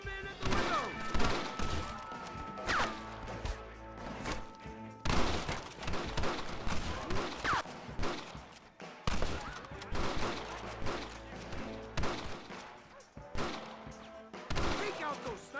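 Gunfire from a Red Dead Redemption shootout, with repeated volleys of rifle and pistol shots in bursts and short lulls over about fifteen seconds, and shouting voices mixed in with the fire.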